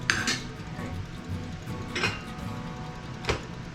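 Rice scooped from a container in a home kitchen for a slow-cooker steak-bites dinner, heard as a few clinking scrapes of utensil on pot at moderate distance against a steady low background hum.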